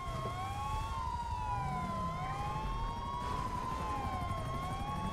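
A police car siren wails in a GTA video game, its rising and falling tone looping smoothly over a low game engine rumble, fairly close and with no talk.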